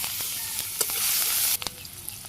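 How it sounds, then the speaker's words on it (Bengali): Cumin seeds and chopped onion sizzle steadily in hot oil, a dense close hiss with scattered pops and clinks of stirring, the frying dropping off sharply near the end to lighter crackles and taps. "এদিকে তেল গরম আছে, আমি জিরে দিয়ে দিলাম"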